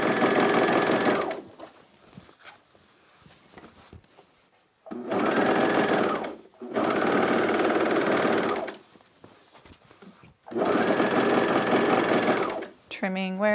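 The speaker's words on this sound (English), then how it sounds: "when you come back to where your serger is" A serger sewing machine stitches the waistband of a pair of pants, running in three long, steady, close bursts of several seconds each, separated by quiet stretches with soft handling sounds.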